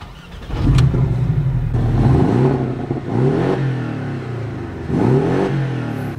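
A newly delivered Porsche's engine, set to sport mode, revs up in several sharp bursts with rising and falling pitch, loud and close, with a deep, rumbling idle between the revs.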